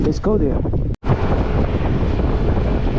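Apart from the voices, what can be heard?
strong wind and rain outdoors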